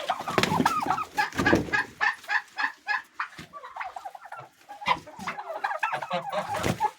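Chickens cluck and squawk up close in a coop, with a turkey gobbling among them, in steady overlapping bursts.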